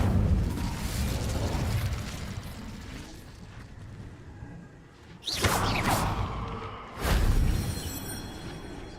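A fiery Incendio spell blast in Hogwarts Legacy erupts as a sudden loud whooshing burst, followed moments later by a second booming flare, each rising sharply over a quieter ambient bed.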